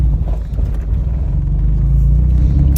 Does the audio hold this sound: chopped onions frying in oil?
no